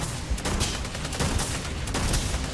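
Rifle fire in the space game Starfield: dense, rapid bursts of loud shots crackling one after another with booming impacts, a near-continuous volley with no voices over it.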